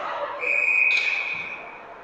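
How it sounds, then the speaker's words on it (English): A referee's whistle at a girls' varsity ice hockey game, one sharp sustained blast that rings out over the arena murmur and then fades. "So whistle there you heard was for the net being off the moorings"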